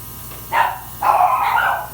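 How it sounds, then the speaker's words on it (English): Indoor dogs bark in two quick bursts, a short one and then a longer run of several barks, moderately loud against a steady low hum. "the dogs are going crazy now, of course"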